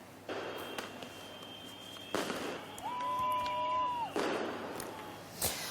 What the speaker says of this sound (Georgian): აქციის მონაწილეთა ნაწილმა დაიწყო პიროტექნიკის გამოყენება